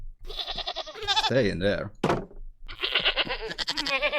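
Goat bleating in a survival video game, a wavering harmonic bleat heard between stretches of close speech, with a brief knock-like thunk near the middle.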